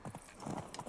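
Roach the horse clops along on hooves in The Witcher 3, sounding as a quick, faint, rhythmic trot of hoofbeats with a soft vocal sound mixed in.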